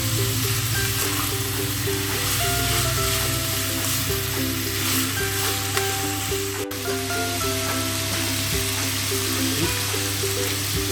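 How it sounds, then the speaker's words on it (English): Pork sizzling and frying in a pan over a high flame, a steady dense crackle that stays loud and close throughout, with faint scraping and stirring sounds underneath. "Fry the pork until you can see a little bit of brownish tinge coming to the pork."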